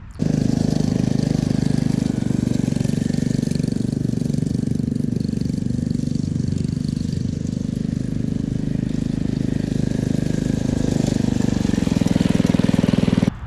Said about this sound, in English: I put a stock hardware store muffler on it, shoots down right behind the seat, and it makes it have this really nice tone